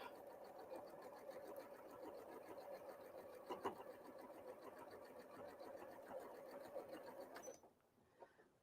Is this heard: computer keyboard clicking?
no